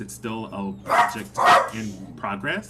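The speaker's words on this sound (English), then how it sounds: "Sorry, that's my dog." A pet dog barks several times in a home setting, with the barks mixed under a person talking close by.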